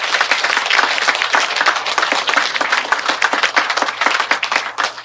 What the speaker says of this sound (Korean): 다시 한번 박수 한번 보내드릴까요?